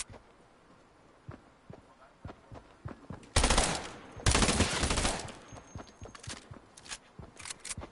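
Fortnite video game gunfire: scattered sharp single shots, then two loud, dense bursts of rapid automatic fire in the middle, then more sporadic cracks trailing off.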